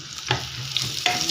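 Ingredients for sopas are stirred and browned in a hot pan: a steady sizzle runs throughout, broken by a few brief scraping stirs, close and fairly loud with no voices.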